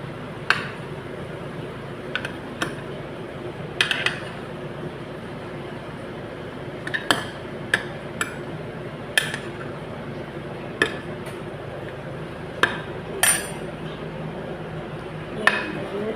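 A utensil clinks and scrapes against a cooking pot as chicken is stirred, giving sharp, irregular metallic taps spread over a quiet, low background hum.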